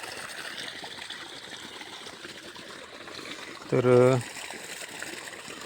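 Irrigation water runs through a pearl millet field in a steady, gentle trickle, with a short spoken word briefly rising over the flow.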